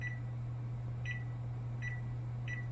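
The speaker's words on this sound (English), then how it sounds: "So I'm going to put a kitchen timer for 15 minutes." Four short electronic beeps from a kitchen timer being set for 15 minutes while an oven preheats, evenly spaced and faint over a steady low appliance hum, no voices.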